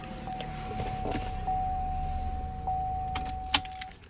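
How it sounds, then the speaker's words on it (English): A Chevy ignition key is worked out of the lock, keys jingling and clicking against each other, with a steady electronic tone in the background and sharper metallic clinks near the end. "key comes out."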